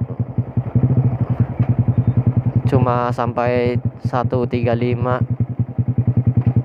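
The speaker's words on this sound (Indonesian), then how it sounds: "itulah top speed motor saya saat ini" A modified Yamaha R15 V2 motorcycle at top speed with a slack chain, its engine droning loud and close with a steady pulsing beat, while a rider speaks briefly over it.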